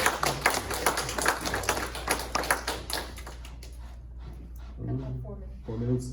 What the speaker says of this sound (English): They're gonna clap, okay?